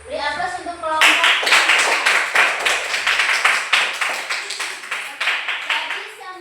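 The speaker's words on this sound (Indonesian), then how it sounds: "Beri aplaus untuk kelompok." Classroom audience clapping for a group of students, a dense burst of applause that starts abruptly and holds steady at close range, preceded by a moment of voice.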